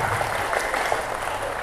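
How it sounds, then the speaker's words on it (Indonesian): Audience applause at a halal bihalal reunion of a big alumni family in Probolinggo, a dense steady wash of many hands clapping that holds evenly for under two seconds with no pauses. "Tepuk tangan dulu."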